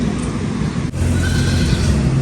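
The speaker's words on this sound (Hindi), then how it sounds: "आवाज़ तो आ रही है बच्चों की" Newborn goat kids bleating, a short loud cry rising over a noisy background with a brief pitched call, no clear talk.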